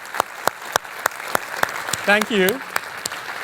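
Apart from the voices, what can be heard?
audience applause for the session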